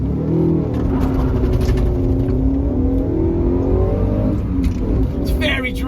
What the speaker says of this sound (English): It's a peppy little engine, this is.